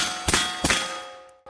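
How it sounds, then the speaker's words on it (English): Suppressed Staccato DPO pistol rounds striking a steel target, giving two sharp metallic clangs with ringing decay and a fainter third hit at the end, with no talking. "5 rounds on steel"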